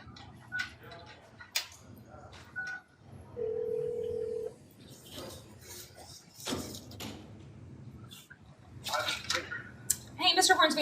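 A telephone is dialed in a courtroom to call a lawyer: a short run of keypad tones rings out among scattered clicks and ticks, while people speak before and after.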